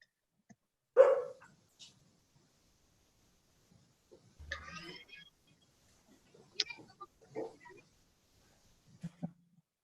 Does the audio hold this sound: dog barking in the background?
yes